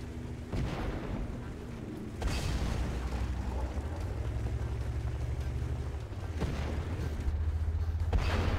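Artillery shell from a Hummel self-propelled gun striking a tank in a World War II tank battle video game, heard as heavy booming impacts with a sharp burst near two seconds and another near six, over continuous low engine rumble.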